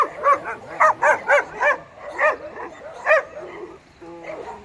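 Several dogs at a dog rehabilitation centre in Castelo Branco, Portugal bark and yip in quick bursts, loud and fairly close, with a whimper and a few fainter yaps trailing off near the end.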